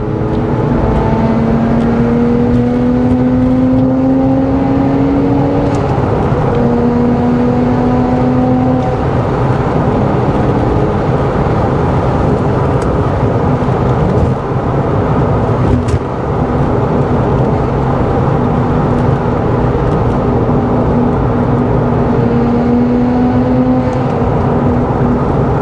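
Porsche 996 fitted with a Fabspeed carbon intake, driving through a tunnel, where the engine hum rises and falls steadily, loud and enclosed, over a long continuous rumble with no voices.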